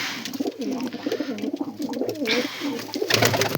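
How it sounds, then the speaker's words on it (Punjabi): Red-headed pigeons, a male and female pair, coo in low, throaty, rolling phrases that repeat steadily throughout, close by, with a brief burst of rustling near the end. "ਇਹ ਕਬੂਤਰੀ ਆ"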